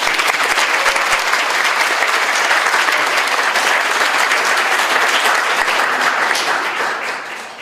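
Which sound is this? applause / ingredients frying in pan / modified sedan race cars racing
applause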